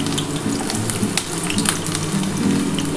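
Ginger, garlic and a little onion fry in hot oil, giving a dense, steady crackling sizzle with scattered sharp pops, heard up close and fairly loud without any talk.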